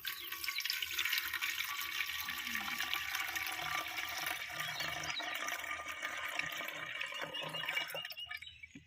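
A liquid plant solution for a jasmine plant is poured into a handheld garden sprayer, one part to be mixed with five parts water, making a continuous close splashing, gurgling flow that tapers off at the end, with no talking.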